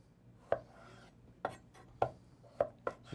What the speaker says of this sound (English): We want to cut these potatoes in wedges